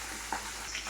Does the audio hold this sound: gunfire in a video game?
no